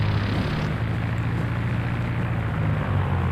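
A propeller aircraft engine in the X-Plane 11 flight simulator, a Bonanza, runs with a steady low droning hum and a constant buzzy throb, even and close.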